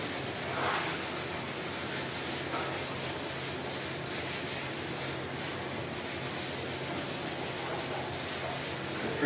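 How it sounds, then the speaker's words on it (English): Hand sanding with fine-grit paper to feather an area before priming, a steady continuous rubbing scrape with even back-and-forth strokes, close and alone. "I'm also going to back sand this area here because I want to prime past my 180 scratches"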